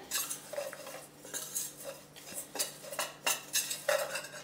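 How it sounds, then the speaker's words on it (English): Apple crisp ingredients stirred together in a bowl, with a spoon scraping and clinking in steady repeated strokes, close and moderately loud, no voices. "Stir this together."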